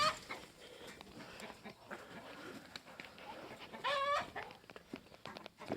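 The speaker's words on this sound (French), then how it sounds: "Les petites poules, regardez les poules" Hens, including the Gournay breed, cluck and call around a poultry farm, with several short bright calls near the four-second mark over a busy background of farm animal noise.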